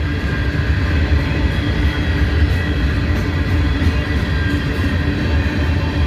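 Loud, continuous low rumble and rolling clatter from a freight train of empty grain cars passing close by, steady throughout.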